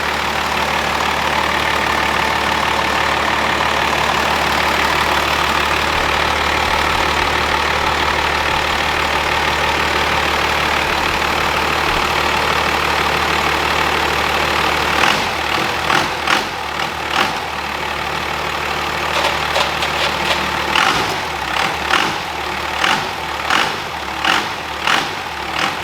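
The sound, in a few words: Cummins diesel engine running on shop floor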